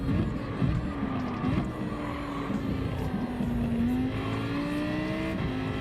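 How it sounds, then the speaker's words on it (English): A car engine in Gran Turismo 7 revs hard through a third-gear drift with a quick shift to fourth, a buzzing sustained note sliding down then climbing, with tire scrub beneath and no voices. "Third gear drift. Quick upshift to fourth. Rev the living piss out of it."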